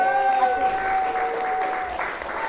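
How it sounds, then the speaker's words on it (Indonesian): An audience at a morning meeting in Denpasar, Bali, applauds with steady, dense clapping that lasts throughout, with a faint tone from music or a voice underneath. "Aplaus yang excited, guys."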